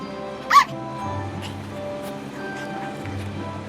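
A cartoon puppy captaining a small boat on a river gives one short, high yip, followed by soft background music.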